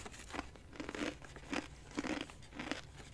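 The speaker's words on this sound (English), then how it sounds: "Get that good crunch ASMR." Cinnamon-dusted dried apple chips are chewed close to the mic, giving a quiet series of crisp crunches in an uneven rhythm of about six bites with no talking.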